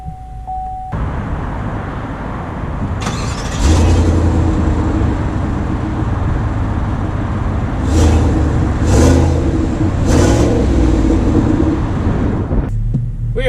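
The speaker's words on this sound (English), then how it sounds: "let's take the 2019 Trail Boss out to see how it drives" A 2019 Chevy Silverado 1500 Trail Boss pickup truck with aggressive tires pulls away, its engine humming low and steady with a few swells as it accelerates, heard from inside over wind and road noise.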